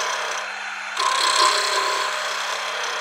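Woodturning lathe hollowing an ornament with a straight tool, a steady close hum and whirr with a rougher scraping cut swelling in about a second in and then continuing.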